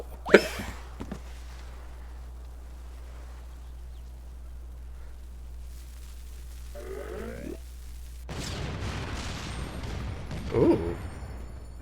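Bombs go off like fireworks in Final Fantasy XIV, with sharp crackling bursts at the start and again later. The later bursts are a rumbling, crackling barrage, with some quieter game sounds in between.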